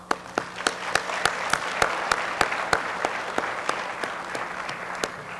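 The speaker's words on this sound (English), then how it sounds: "Let's give them a round of applause." A conference audience in a school setting applauds for a team of student officers, a steady ongoing clapping with several sharp, distinct claps standing out near the microphone.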